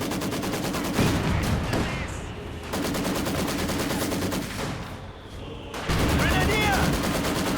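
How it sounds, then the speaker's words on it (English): Rapid gunfire bursts and mortar fire from a Company of Heroes 2 one-versus-one match, loud and dense, with overlapping volleys throughout and a brief dip before the firing swells again. "Grenadiers here taking nasty fire, mortar finding away again."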